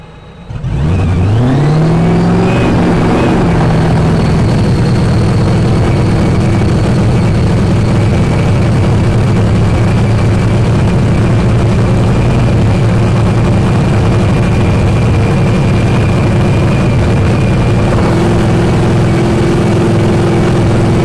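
Clay Milliken's Ford Top Fuel dragster at an NHRA qualifying event at Epping fires up and settles into a loud, sustained, roaring idle, close and continuous for about twenty seconds.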